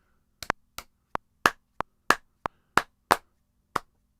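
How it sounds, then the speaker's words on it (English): Hands clap the off beat in a singing rhythm lesson, with about a dozen crisp, close claps in an uneven, syncopated pattern and silence between them. "Now we're going to clap the off beat."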